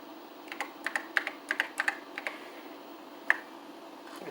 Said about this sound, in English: If I type +FATCAT,